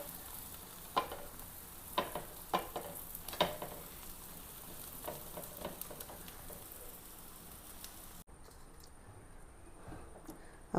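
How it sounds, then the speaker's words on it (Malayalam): Masala-marinated fish fries in an oil-filled pan, giving a steady close sizzle with a few sharp pops and ticks early on, then a quieter stretch near the end. "അപ്പോൾ മീൻ ഞാൻ വറുക്കാൻ വെച്ചിരുന്നു."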